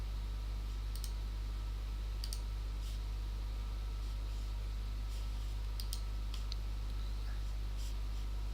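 A computer mouse clicks faintly a handful of times at irregular intervals during video editing, over a constant low electrical hum.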